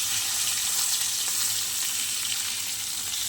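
Catla fish head frying in hot oil with panch phoron, a steady close, dense sizzle that holds evenly throughout with no voices.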